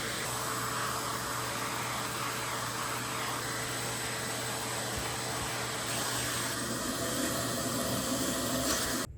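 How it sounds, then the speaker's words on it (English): A vacuum cleaner runs steadily as it removes baking soda residue from a mattress, a loud, constant whooshing roar with slight shifts in tone as the nozzle moves, alone without talk. "remove the residue with a shop vac or vacuum cleaner"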